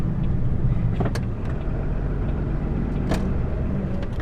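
A car engine idles and rumbles steadily, close and continuous, as the car pulls in to park in a roadside lay-by, with no talk over it.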